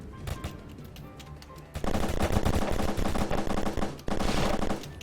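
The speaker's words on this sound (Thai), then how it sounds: "เสียงปืนอยู่แถวไหนฮะ" Gunfire in a shooting video game: rapid machine-gun bursts and overlapping shots, quieter at first, then dense, loud sustained firing with a brief pause before another volley.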